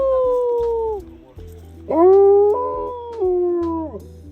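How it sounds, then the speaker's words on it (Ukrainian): A white wolf howls twice in a sanctuary in the Carpathians: long, loud, mournful tones close by, the second rising then stepping down, alone without talk. "Білий вовк."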